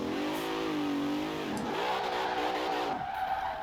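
A racing car engine in a Forza video game screams and revs, its pitch rising and falling through gear changes, with a tire squeal now and then, loud and constant.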